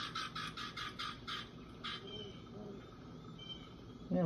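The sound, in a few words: baby birds chirping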